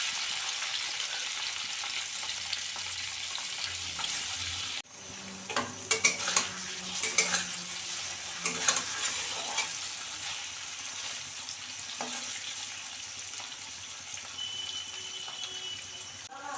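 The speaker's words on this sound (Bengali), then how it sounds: "এবার পনিরগুলো হালকা করে ভেজে নেব।" Paneer cubes fry lightly in a pan for a vegetarian paneer dish, a steady close sizzle with stirring scrapes and clinks that grow busier partway through, no voices.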